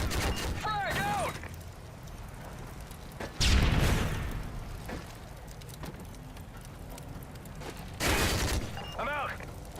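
Call of Duty MW3 battle: a frag grenade blast and a burst of gunfire ring out twice amid steady background combat noise, with shouted voices in between.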